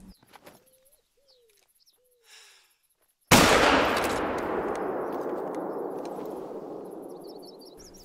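A single sharp rifle shot in theHunter: Call of the Wild cracks loudly after quiet birdsong, then echoes and rolls away slowly across the hunting landscape.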